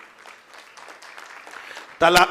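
Clapping from an audience at a Hindu religious discourse on Ekadashi fasting bursts in loud and sudden at the end, after quieter murmuring talk.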